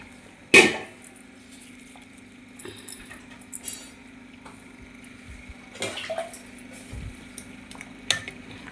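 A spoon stirs and scrapes through a pot of fish curry, with a couple of sharp clinks against the rim over a faint, continuous bubbling simmer.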